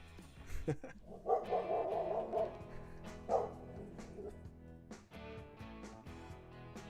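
Dog barks and yips play as a stream sound effect during a Rocket League esports broadcast, several sharp barks in a row with a whimpering, yapping texture at moderate level.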